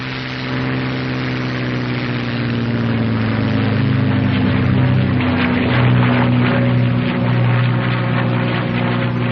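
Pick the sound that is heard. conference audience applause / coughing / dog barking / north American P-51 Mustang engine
north American P-51 Mustang engine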